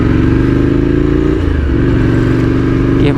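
A motorcycle rides on the shoulder past traffic in wet weather, its engine a loud steady close drone with a shifting pitch midway and a slight rev at the end.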